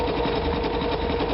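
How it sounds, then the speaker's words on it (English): A sewing machine stitches appliqué onto quilt fabric with a close, continuous, even mechanical hum and rapid rhythmic needle pulsing, with no pauses. "I'm going to begin and applique this down"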